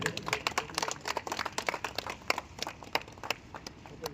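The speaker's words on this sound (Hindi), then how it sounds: "तालियां स्वागत करें।" Scattered clapping from a small crowd at an outdoor Ambedkar Jayanti celebration in Balsagra, sharp uneven claps rising and falling for several seconds, fairly faint and distant.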